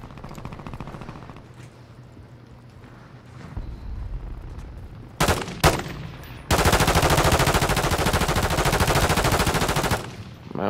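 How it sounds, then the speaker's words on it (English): Distant gunfire crackles in an MW3 Rebirth Island match, followed by a couple of sharp close shots and then a long, loud sustained burst of automatic fire. "what is these folks shooting at"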